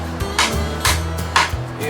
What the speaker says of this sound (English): let's see what happens if I smack it with a hammer